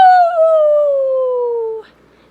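A single long wolf howl, loud and close, slides slowly downward in pitch for almost two seconds before it cuts off into near silence.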